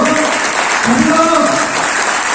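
A crowd at a health seminar in Satna claps hard and steadily throughout, a thick wall of applause with a voice cutting through in the middle.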